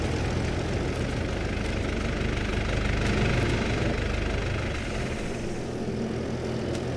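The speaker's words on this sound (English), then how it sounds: "I need to shut off my other tractor though." A farm tractor idles during an oat harvest, giving off a continuous low, rumbling engine chug that eases slightly toward the end, with no talking.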